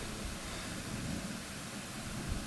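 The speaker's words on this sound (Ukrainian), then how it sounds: "Отакий пішов дощик." Rain falls steadily during a thunderstorm outdoors in a garden yard, a dense, even hiss of moderate loudness that carries on throughout, with no voices.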